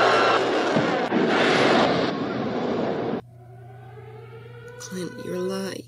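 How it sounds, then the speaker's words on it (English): Rockets launching in a monster film, a loud roaring blast and rumble that cuts off abruptly, followed by quieter tonal sounds and distant wails. "Fire the damn rockets!"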